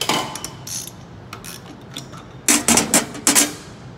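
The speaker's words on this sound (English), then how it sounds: "hope that I can get just enough hold with the socket that I can go ahead and loosen that thing up to where it's only finger tight" Socket wrench loosening a bolt on the front-end gearbox of an 82-90 XLi EDGE machine, close-up bursts of rapid metallic ratchet clicking in short strokes, with louder clusters near the end and no talking.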